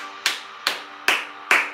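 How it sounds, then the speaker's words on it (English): Four short bursts of group clapping from a live sculpt-and-meditation fitness class, evenly spaced and moderately close, each a sharp crack fading quickly, with no talk over them. "give yourself a round of applause"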